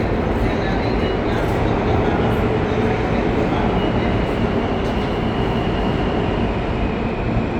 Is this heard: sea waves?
no